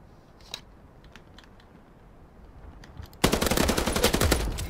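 Video game gunfire opens up as sustained rapid automatic bursts, loud and close, after a few faint scattered shots in the quiet beforehand.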